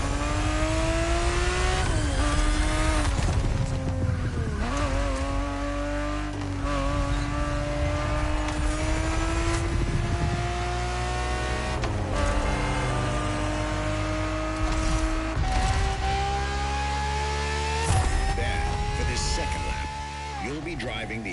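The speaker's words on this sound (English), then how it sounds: "365 GTB4 is the perfect vehicle for you to experience Ferrari racing as it felt back in the 70s" A 1970s Ferrari 365 GTB4 races in The Crew Motorfest, its engine revving loudly and climbing through repeated gear changes, with tire noise and a narrator talking throughout.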